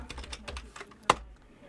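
A computer keyboard is tapped to type a short command into a terminal, giving a quick run of soft, close keystrokes followed by one sharper key press near the end, with no talking.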